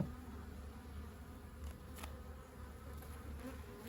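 A steady, dense drone of many honeybees buzzing together in a Buckfast hive, continuous and close, with no talking.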